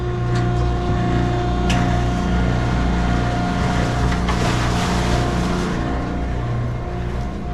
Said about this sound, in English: After you turn the pump on